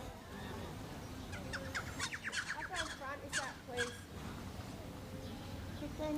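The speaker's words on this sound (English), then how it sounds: "Even hear the birds chirping, Jimmy." Small birds chirp and twitter in quick bursts near an outdoor lawn bowls green, faint and a little distant over a low background hum, with no voices in between.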